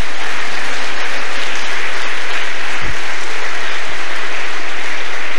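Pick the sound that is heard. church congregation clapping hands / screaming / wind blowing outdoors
church congregation clapping hands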